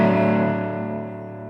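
Electric guitar through a King of Tone overdrive pedal set to heavy distortion, a single sustained, harmonically rich chord ringing out and slowly decaying over about a second and a half, alone with no talk.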